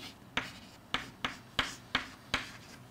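Chalk strikes a board six times in a physics lecture, each a sharp tap with a short scratch after it, spaced irregularly in a quiet room.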